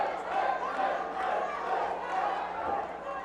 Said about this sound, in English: And the crowd is into this.